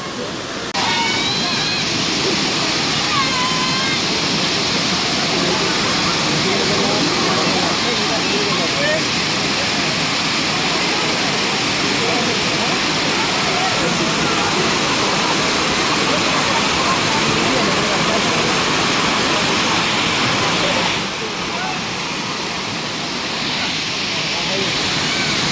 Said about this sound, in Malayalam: അങ്ങനെ അതാണ് ഫൈനൽ അരീക്കൽ വാട്ടർഫാൾസിൻ്റെ ഒരു ലുക്ക്.